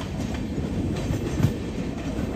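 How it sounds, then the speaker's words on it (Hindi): The Magadh Express, running between Hatia and New Delhi, rolls alongside a parallel train with a continuous close rumble and steady clatter of wheels on rails. "यहाँ पर हमारा किसी ट्रेन के साथ पैरेलल रन चल रहा है भाई"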